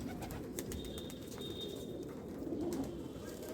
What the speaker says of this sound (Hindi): ये एक मकाऊ कबूतर है, अपना रामपुर का ही है